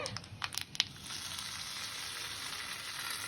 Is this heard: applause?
no